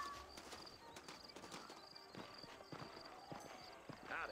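Horses clip-clop at a steady walking pace in the Red Dead Redemption video game, hooves close and clear, with occasional voices and snorts over a busy town background.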